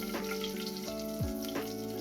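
Steady crackling sizzle of white cumin seeds frying in hot oil for a tempering, close and continuous, with faint clinks and a few brief metallic scrapes.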